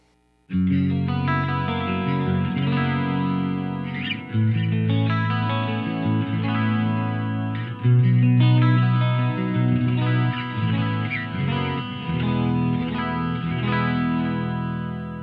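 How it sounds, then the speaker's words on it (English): A distorted electric guitar with its coil tap engaged, run through a Two Notes ReVolt, plays sustained chords with a bright, effected tone and echoing chorus, loud and continuous with brief pauses between phrases. "I'm using the coil tap on the guitar, so it brightened it up anyway."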